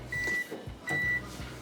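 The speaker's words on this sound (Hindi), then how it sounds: "इसको हम माइक्रोवेव में रखेंगे, तकरीबन कोई 30 सेकंड देखते हैं या 1 मिनट, इसको मेल्ट करना है" A microwave oven runs while melting gelatin, giving a low steady hum with a couple of thin high tones laid over it, close and fairly quiet.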